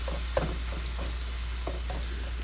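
Chicken frying in a pan over medium heat, a steady faint sizzle with soft stirring scrapes recurring every half second or so, no talking.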